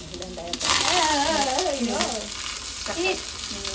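Onions fry in a pan with a bright, continuous sizzle, while a voice talks over the crackle for most of the moment.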